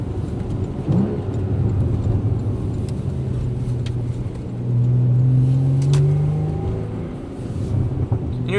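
A Porsche 981 Boxster S with a six-speed manual and sport exhaust pulls hard from inside the cabin, its engine droning and rising in pitch as it revs, with a steady rumble under the road noise and no talk.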